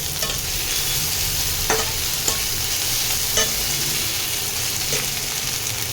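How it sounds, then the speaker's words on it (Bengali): Ginger and garlic paste fries in a pan with a steady, close sizzle, broken by occasional scraping taps of a stirring spoon. "আদা রসুনের কাঁচা গন্ধটা যাবে সেরকমভাবে ভাজতে হবে একটু"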